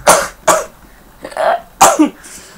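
A person sneezes indoors, a few sharp bursts with short gaps and a small exhale between them, close and loud, with no talk over it.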